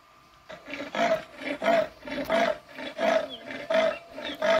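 A leopard gives a rhythmic series of about eight loud, rasping roars, each a short sawing burst followed by a brief pause, close and with no other sound.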